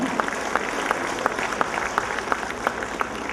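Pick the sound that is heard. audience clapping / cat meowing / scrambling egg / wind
audience clapping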